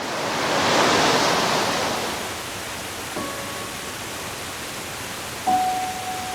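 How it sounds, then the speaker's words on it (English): Stream water pours over waterfalls on the Cumberland Plateau in East Tennessee, a steady broad rush that swells in the first two seconds and then settles into an even, moderate wash, with no voices. "You can hear the water. We're dealing with some waterfalls today on the Cumberland Plateau in East Tennessee."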